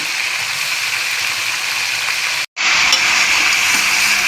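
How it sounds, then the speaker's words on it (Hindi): Mutton frying in hot oil with bay leaf and green chili, a loud, continuous sizzle that cuts out for a split second and then resumes even stronger. "फ्रेंड्स मटन को इस तरह से फ्राई कर लेंगे तेल में।"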